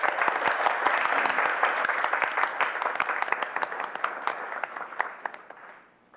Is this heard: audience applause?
yes